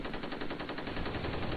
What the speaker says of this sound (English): You're a Gatling gun guy.